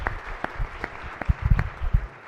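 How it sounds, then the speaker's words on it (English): Senators in the chamber give a round of applause for a young guest in the gallery, sparse, uneven claps in a large room that grow louder briefly toward the end. "colleagues, if you all can give a shout out to this young, brilliant scholar, please, Ian, please accept your round of applause"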